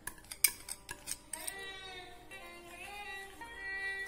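A utensil stirs powdered sugar and condensed milk in a bowl for eggless red velvet cake batter. Several sharp clinks and scrapes sound up close in the first moments, then give way to a sustained tonal background.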